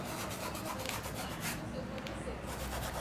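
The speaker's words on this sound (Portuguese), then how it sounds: "Pode esfregar bastante mesmo sem medo, tá?" A brush and thinner rubbed firmly back and forth over fabric while painting on cloth, a continuous close, dry scrubbing rasp with quick rhythmic strokes that eases slightly toward the end, heard alone without talk.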